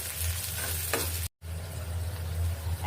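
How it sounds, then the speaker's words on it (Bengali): Chopped onion fries in oil as it browns for a lentil dish with jute greens, a constant close sizzle and stirring with a brief dropout to silence partway through. "আরো দিয়ে দিব পেঁয়াজ কুচি। এটাকে একটু বাদামি কালার করে ভেজে নিব।"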